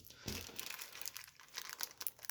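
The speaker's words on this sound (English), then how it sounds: "I don't really want to tear my brushes up on getting the package open, so we'll cut it here." Plastic packaging around paint brushes is sliced open with a rusty razor blade, giving quiet, close crinkling and scraping in short bursts.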